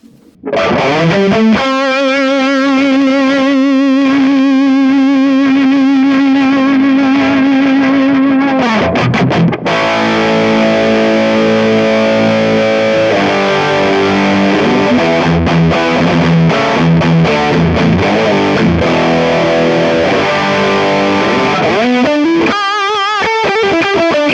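Heavily distorted electric guitar through a Kemper profiling amp plays sustained chords and riffs, loud and saturated, with a long held note at the start and brief pauses between phrases.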